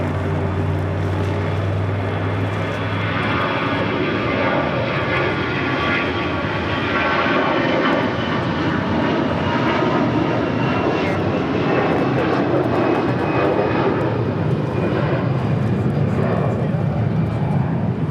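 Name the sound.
American Airlines Airbus A320 jet airliner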